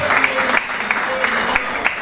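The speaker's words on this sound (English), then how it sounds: "Give yourselves a round of applause" Town hall meeting audience in Molineux applauding together, steady clapping with a few sharper individual claps standing out, fairly loud and close, while a voice speaks over it.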